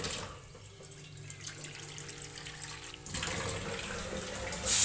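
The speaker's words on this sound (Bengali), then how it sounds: "জল এখানে দিয়ে দিলাম আমার যতটা প্রয়োজন আমি এটাতে জল অ্যাড করে দিলাম" Water poured into a pan of egg, potato and lentil curry, a steady close splashing pour that grows louder and fuller in the last seconds.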